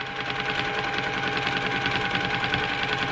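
A domestic sewing machine runs steadily during free-motion quilting, a close, continuous fast mechanical whir and needle hum with no pauses and no talk.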